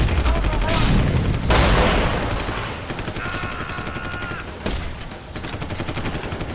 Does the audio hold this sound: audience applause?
no